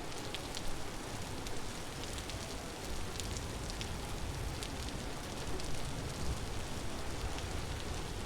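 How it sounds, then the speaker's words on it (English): Rain falls steadily in the video game Vintage Story, a dense, even hiss with scattered patter of drops that continues without break and without any voices. "So, pause, enjoy the rain sounds"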